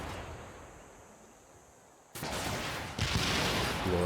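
Units firing in an attack in the video game Civilization VI: after a quiet stretch, two sudden bursts of heavy gunfire and artillery-like blasts erupt, loud and sustained, with no talking.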